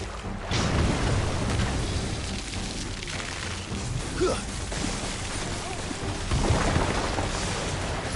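A thunder magic attack in Final Fantasy XVI rumbles as a sustained, loud crackling roar with rain-like hiss, swelling again near the end, heard without clear talk.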